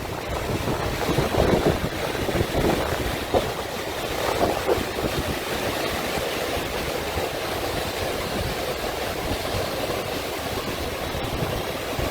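Strong wind at Crane Beach buffets the microphone in a steady, loud roar, with rumbling gusts and a wash of surf-like noise throughout.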